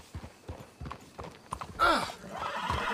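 Rhythmic clip-clop of horse hooves trotting in the video game Red Dead Redemption 2, followed by a loud horse whinny partway through, with faint background noise.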